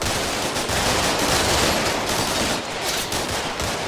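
Sustained automatic gunfire from the tactical war game Combat Mission: Shock Force, loud dense bursts of machine-gun and rifle fire rattling continuously with no pauses.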